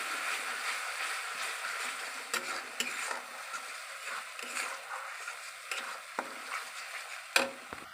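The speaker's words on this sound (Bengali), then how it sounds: "এবার আমি ভালো করে কষে নেব।" Pumpkin, potato and bori curry spiced with cumin powder and salt sizzles steadily in a pan, with a spatula scraping and stirring in scattered knocks over a continuous close frying hiss.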